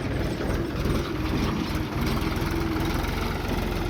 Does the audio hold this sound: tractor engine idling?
yes